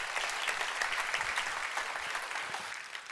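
Steady, full applause fills a conference hall as the audience claps for a speaker, a loud, dense wash of many hands that holds without a break, with no voices over it.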